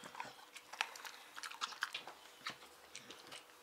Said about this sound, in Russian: И будем кушать ребрышки.